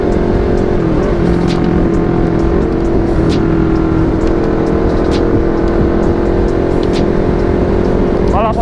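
A Honda CBR 250 RR sport motorcycle engine drones steadily and loudly while riding at night, with constant wind rush and someone talking over it.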